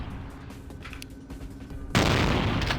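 Gunfire from a weapon in a vampire tabletop-style video game, with a subdued rumbling stretch before a sudden loud, dense burst of shots that carries on to the end.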